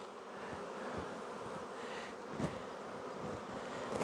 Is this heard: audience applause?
no